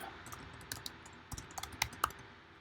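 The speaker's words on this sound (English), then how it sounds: "And I can type." Keys clack on a computer keyboard during an online teaching session, a quiet, irregular run of distinct taps that bunch into quicker bursts near the end.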